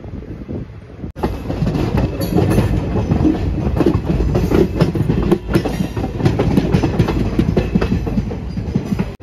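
Tirupati–Kakinada Port Express rolling along the rails near Vijayawada in the early morning, a loud, continuous rumble with rhythmic clickety-clack that swells in abruptly after a quieter first second.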